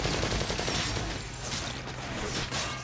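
A Gatling gun firing in the action game inFamous 2, a dense continuous roar of rapid shots that holds steady for several seconds, loud and close, with no other sounds standing out.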